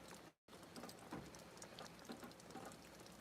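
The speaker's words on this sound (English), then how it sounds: "Doesn't sound like a bad rain." A rain shower falls straight down in a steady, soft patter of many drops. It is faint and continuous, with brief gaps and a few louder drips, and no one speaks.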